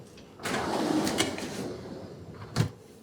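Kitchen drawers sliding open, a close rolling rumble followed by a soft thump as a drawer reaches its stop.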